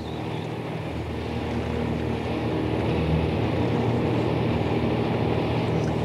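Propeller airplane engine droning steadily in flight, a loud continuous hum heard from inside the aircraft, slowly building in level with no talk.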